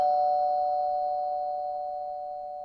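A single steady electronic chime tone sounds clearly and slowly fades away, with nothing else around it.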